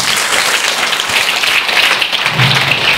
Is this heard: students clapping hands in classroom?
yes